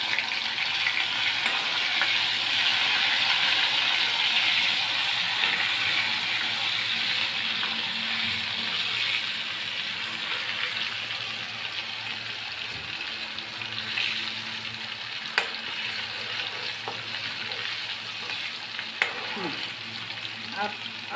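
A constant, close sizzle of garlic and ginger paste frying in a pan carries on throughout, with occasional small clicks and scrapes of stirring layered over the even hiss.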